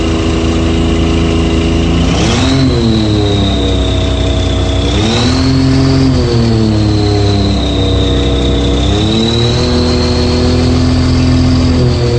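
An articulated dump truck's diesel engine runs loud and close while the machine backs up in reverse, with a steady heavy drone that rises and falls through several revs.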